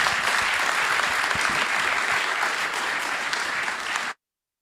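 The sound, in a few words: audience applause at a conference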